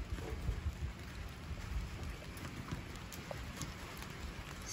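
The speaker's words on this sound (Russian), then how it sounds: "потому что у нас дождь начинается" Rain beginning to fall in a rose garden in late May, a dense steady patter of drops on leaves and surfaces, with a faint high electronic whine running through.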